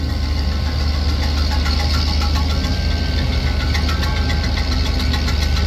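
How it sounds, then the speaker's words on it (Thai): A new John Deere sugarcane harvester runs with a constant, close mechanical drone and a fast, rhythmic knocking clatter from its meshing cutter blades, with no talking. "เสียงใบมีดมันขบกัน"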